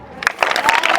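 A crowd at a school Children's Day celebration gives brief, scattered applause after a child spells a word, a second of claps with a voice mixed in.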